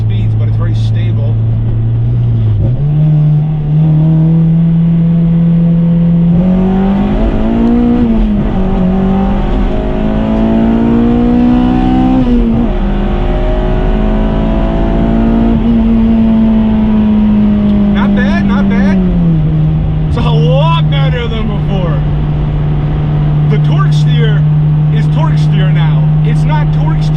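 An Acura RSX with an Acuity shifter and repaired suspension drives through a turn, the engine holding a steady hum that rises and settles through the corner, loud inside the cabin while someone talks.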